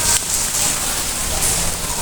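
Steady rain falls outdoors, a dense, even hiss of drops on surfaces that continues without break, moderately loud and close, with no voices over it.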